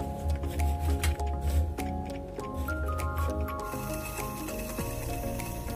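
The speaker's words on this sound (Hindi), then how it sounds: "आप इसका साउंड सुन सकते हो दोस्तों कितनी फास्ट है ये।" A homemade toy car steered with a TV remote runs its small motor with a steady whirring whine and rapid mechanical ticking and rattling, close and fairly loud throughout, with no talking.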